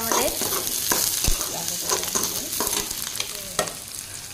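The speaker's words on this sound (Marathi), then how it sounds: "आता मी यामध्ये लसूण थोडं बारीक करून टाकत आहे।" Chopped garlic goes into onions already frying in oil, raising a loud, close sizzle with scattered stirring clicks and spatula scrapes across the pan.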